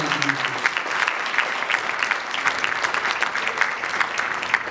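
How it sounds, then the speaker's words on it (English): Steady applause from a conference audience honoring a foundation colleague, dense even clapping sustained throughout, with a brief murmur of voices at the start. "ask that we all give Florence a round of applause for her tremendous contributions"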